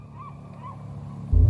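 A honking bird in The Journey Down adventure game, a goose-like call that comes in loud and close right at the end, after a quiet low musical hum.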